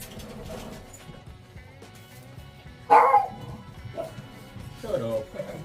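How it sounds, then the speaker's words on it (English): Dogs bark at a holiday hot tub, with one loud sharp bark standing out and smaller yips and whimpers around it. People talk close by while the dogs carry on. "Calm down, dogs."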